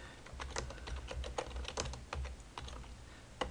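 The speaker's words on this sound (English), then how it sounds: "I'm going to type that in right quick" A web address is typed on a computer keyboard, with quick, irregular key clicks heard close and alone.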